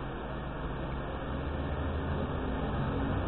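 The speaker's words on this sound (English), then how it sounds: "bus outside that's making all that noise" A bus outside gives off a steady, muffled engine rumble, a continuous low drone heard through a wall, constant in level with no breaks.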